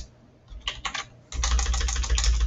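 Typing on a computer keyboard while entering text in a Visual Basic Pong program: a few scattered keystrokes, then a dense, steady burst of fast, close clicking, with no voices.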